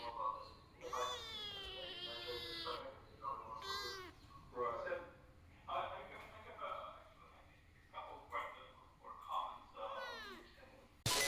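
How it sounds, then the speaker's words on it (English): A weak stray kitten gives a series of plaintive meows. Each cry rises and falls, coming at a steady pace with short pauses between them. The meows sound close against a soft low hum. "her meows were getting louder"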